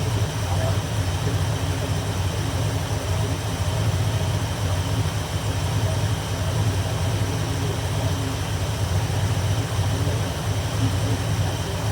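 A 1978 Ford Bronco engine runs at a steady idle near 900 rpm, a constant low rumble with even texture throughout, close and unbroken.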